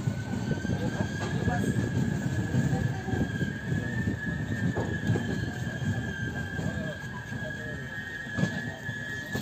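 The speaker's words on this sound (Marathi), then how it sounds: "तर आता ट्रेन पोचली आहे वैभववाडीला।" A Diva passenger train pulling into Vaibhavwadi station: steady rumbling wheels and carriage noise with a sustained high whine, heard close and continuous, with voices faintly mixed in.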